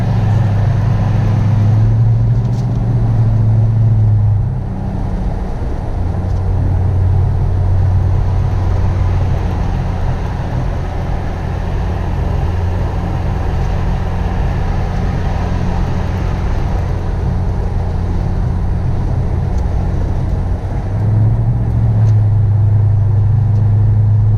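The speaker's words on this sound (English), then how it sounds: "That's what it sounds like with all four windows down, and this is again just kind of driving through the city" A Toyota Tundra with a 5.7L V8 and Flowmaster Super 44 exhaust cruises through city streets with all four windows down, its deep exhaust drone and rumble steady and loud, swelling slightly with throttle, and no one talking.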